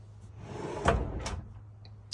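A large linen drawer under a bed slides open or shut with a woody rumble, then a firm knock, followed by a lighter second bump. The sound is close and moderately loud.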